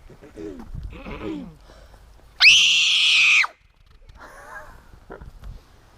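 A child mimics a pterodactyl screech: one loud, shrill, sustained shriek of about a second, set between quieter bits of adult talk outdoors at a recreation area.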